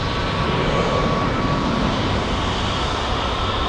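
A jet airplane roars at Boston Logan International Airport as a loud, steady broadband engine rumble that holds constant throughout without any voices.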